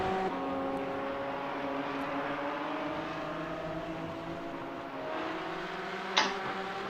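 Race car in a Daytona racing simulator braking hard into a turn, a steady engine drone with shifting pitch that drops and then rises again, fairly faint and with no talking.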